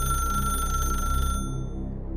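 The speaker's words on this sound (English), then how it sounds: "Then the phone rang a 3rd time." An old rotary telephone rings with a shrill mechanical bell in a steady loud trill that stops partway through, leaving a low hum.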